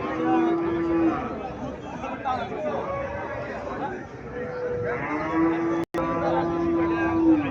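An Indian Haryana breed dairy cow at a rural cattle market moos in long, drawn-out calls, loud and close, over steady crowd chatter and nearby talking.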